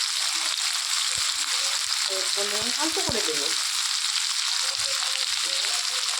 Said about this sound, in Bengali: এই যে এটা ভাজা ভাজা হয়ে গেছে